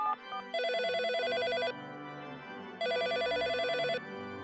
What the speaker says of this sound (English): Oh, looks like it's already ringing.